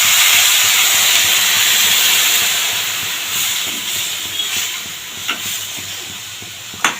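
Water poured into a pan of fried vegetables with drumsticks, bursting into a loud, dense hissing sizzle that slowly settles, with a few small clinks near the end.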